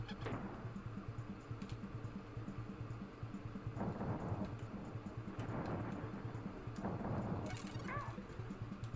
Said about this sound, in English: I didn't even see the lightning strike to begin with